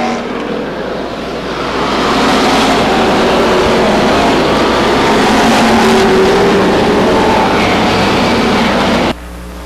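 Race cars roar around the Stockton 99 Speedway oval during a spin incident, a loud, continuous engine drone that swells and holds before cutting off abruptly.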